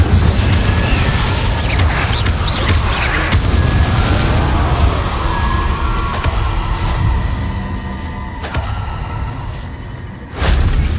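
Fiery spell blasts in a Harry Potter-style video game: a dense, loud wash of booming bursts and whooshing swishes runs steadily for about ten seconds, with a sharp crack near the end before it fades out.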